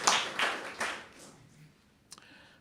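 Brief scattered clapping from a small audience at an anniversary celebration, a few loud claps up front fading quickly into quiet, with a faint tap near the end.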